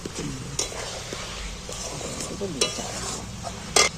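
Eggs cooked in masala in a pan, with a steady sizzle and frying running under repeated scraping strokes of a spatula against the pan, plus a few sharper clanks.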